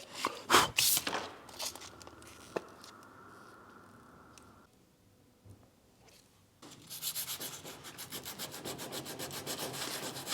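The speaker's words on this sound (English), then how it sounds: "sand the affected area with 80 or 100 grit first" A car bumper on a Mitsubishi Evo 8 rebuild is sanded by hand with 80 or 100 grit sandpaper, producing close rasping strokes, first scattered and then a steady rhythmic back-and-forth scrub after a quiet pause.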